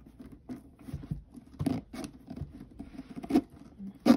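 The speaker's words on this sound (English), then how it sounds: "And the zipper, let's try a bit." Zipper on a Louis Vuitton Alma PM monogram bag being opened by hand, quiet scratchy rasping strokes in short irregular bursts, close and soft without speech.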